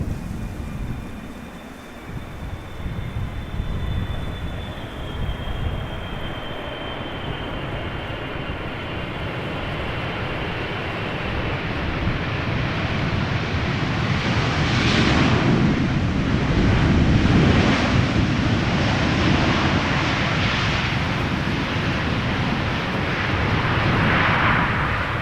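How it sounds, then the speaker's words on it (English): A KLM Boeing 777-300 airliner arriving at Amsterdam Schiphol on a crosswindy day gives a steady, loud roar that swells toward the middle and end as the jet passes, with wind buffeting the microphone throughout. "Here we have KLM Flight 592 arriving from Johannesburg, South Africa. 777-300, the first of the day."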